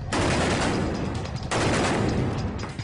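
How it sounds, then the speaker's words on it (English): Dense, rapid gunfire crackles continuously inside a restaurant during the Mumbai terror attack, loud and close, with a brief dip midway before the volley resumes. "we heard consecutive shots just ring through the restaurant"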